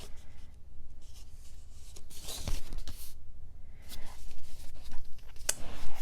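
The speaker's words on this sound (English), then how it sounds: "just trim a tiny bit of that off" Paper is trimmed for an autumn-themed mini album, with close, quiet scraping and cutting strokes coming in uneven bursts, including a sharp snip partway through, with no talking.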